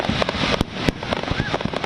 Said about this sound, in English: Last night, folks treated to a fireworks finale over the Mobile River overlooking Austell.